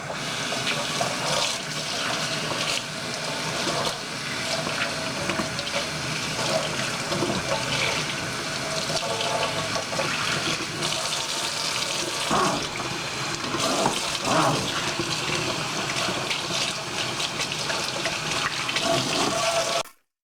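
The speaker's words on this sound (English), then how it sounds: "So I'm rinsing out all the conditioner really thoroughly." Hot water runs steadily from a sink tap while conditioner is rinsed out of a doll's hair, a continuous close splashing hiss lasting the whole time with no talking.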